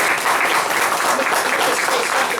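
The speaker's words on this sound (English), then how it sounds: "We might give our candidates a round of applause." Loud, dense applause from the audience at a county commissioner candidate forum, many hands clapping evenly for the whole stretch with no voices heard over it.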